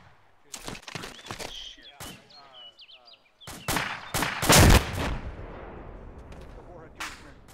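An anti-tank weapon fired at a building in Arma 2, heard as a few sharp gunfire cracks and then one louder, heavier blast with a rumbling tail, mixed with distant shots and bits of radio chatter.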